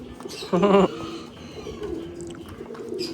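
A pigeon gives a short, close, throaty coo, followed by quieter ambient noise and faint rustling.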